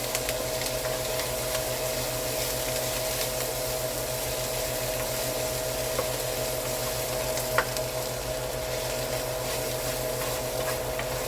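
Garlic sizzles in a hot frying pan, a steady, even crackle of frying that holds through the whole stretch, with a faint low hum beneath and a single brief clink partway through; no one speaks.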